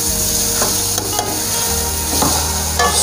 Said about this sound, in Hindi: इसके साथ ही मैं इसमें सॉस डाल देता हूँ।